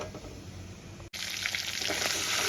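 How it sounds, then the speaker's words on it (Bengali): Black cumin seeds frying in leftover fish oil for a Bhetki fish paturi cooked in a wok, a steady loud sizzle that cuts out for an instant and returns brighter and hissier, with no voices. "ফোড়নে দিয়ে দেবো কালো জিরে। আমি ফোড়নে কালো জিরে দিয়ে দিয়েছি। কালো জিরেটা একটু ভেজে নেব"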